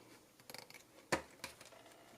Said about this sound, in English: we're going to take our scissors and cut everything out